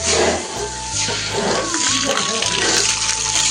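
Water pours steadily into a used cooking pan to soak it, a continuous close splashing rush that runs the whole time without pause.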